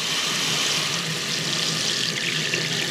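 Hot water runs steadily from a tap over a rusty Schwinn bicycle wheel, a loud, continuous close hiss and splatter with no pauses.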